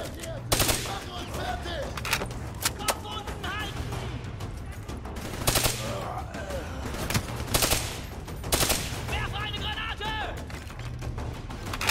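Rapid bursts of automatic gunfire crack and rattle through a Call of Duty: Black Ops 3 battle, loud shots repeating in clusters over a busy backdrop of combat noise, with voices heard now and then.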